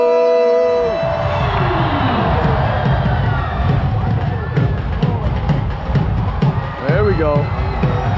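A large crowd at the India-Pakistan border ceremony cheers, yells and whoops continuously and loudly, with a brief sung or chanted call near the start and rising shouts throughout.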